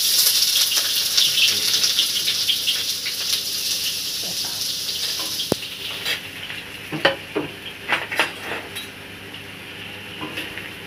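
Chow mein noodles fry in hot refined oil, a steady bright sizzle near the pan with stirring scrapes and clinks of a utensil against the pot growing more frequent toward the end.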